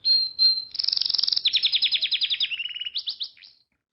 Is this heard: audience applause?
no